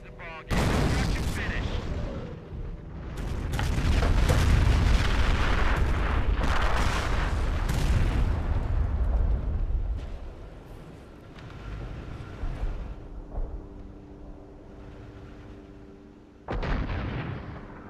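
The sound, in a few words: M7 Priest howitzers firing artillery in video game Company of Heroes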